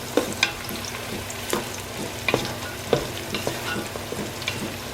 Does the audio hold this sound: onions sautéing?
yes